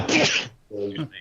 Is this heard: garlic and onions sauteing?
no